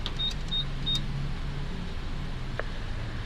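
A car's power window motor hums steadily at low pitch, with a few short high beeps near the start, heard close with no talking.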